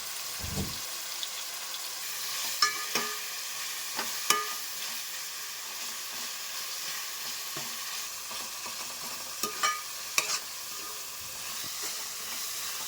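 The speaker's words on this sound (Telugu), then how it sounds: "టమాటా ముక్కల్ని ఉల్లిపాయలు ఇవన్నీ కలిపి మగ్గనిద్దాం" Tomato pieces and onions simmering together in a pan for a chicken gravy, a quiet continuous hiss and sizzle with occasional clicks and scrapes of stirring, close and without talk.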